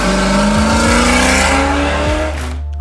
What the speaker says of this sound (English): The car is loud.